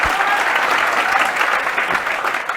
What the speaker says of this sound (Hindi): एक बार जोरदार ताली दो